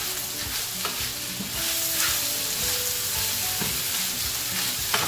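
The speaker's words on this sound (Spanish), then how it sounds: "Ya una vez que los huevos se cocinan, lo que hacemos es que mezclamos todos los vegetales con los huevos" Vegetables and cooked eggs stirred together in a hot pan, with steady sizzling frying and occasional scraping knocks of a utensil, close and continuous.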